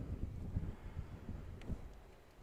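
Strong wind on a blustery day at an outdoor softball game in Port Isabel buffets the microphone, producing a low rumbling roar with irregular gusts throughout, with no speech.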